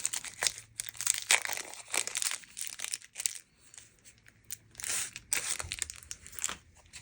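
Quiet crinkling and tearing of a plastic package holding extra wide bias tape as it is opened, soft irregular rustles close by, with no talk.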